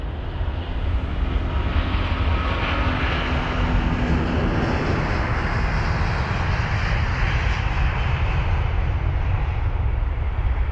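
A jet airliner powers down the runway on takeoff at London Heathrow, its engines a loud, steady broadband roar that holds at full strength for the whole stretch with no voices over it.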